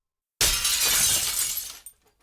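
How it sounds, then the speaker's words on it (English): Window glass shatters in one loud, sharp crash that rings briefly and then falls off into scattered tinkling fragments, heard alone as a story sound effect. "the crash of a broken window rang out"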